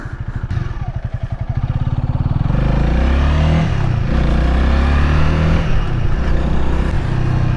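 A Honda Rebel 300 motorcycle engine accelerates from a close, pulsing idle-like chug into a steady, rising rev as the bike pulls through the gears, loud and near with wind noise and no speech.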